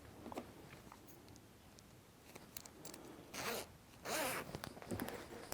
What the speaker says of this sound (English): let's do up our zipper and see how that's working